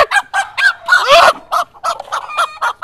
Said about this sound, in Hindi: ये तो बड़ी खतरनाक मुर्गी है यार